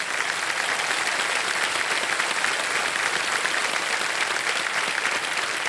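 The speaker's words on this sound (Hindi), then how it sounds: "तालियां बजाइए" A studio audience at a TV quiz show claps in a steady, even burst of applause that holds at the same level throughout, with no voices over it.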